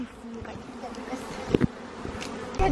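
Bees swarming inside a dishwasher make a steady, close buzz, with brief clicks and knocks and some faint voices in the background.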